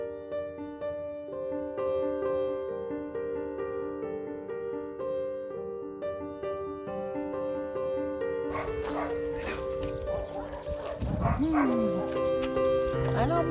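Music plays for several seconds, then a small dog yips and whimpers close by, with high whining cries over the music.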